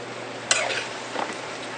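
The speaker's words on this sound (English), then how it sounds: "And now we toss them a little gently with a spoon." Rigatoni is tossed gently with a spoon in a sauté pan, making a quick scrape and a soft clatter against a steady low background hum.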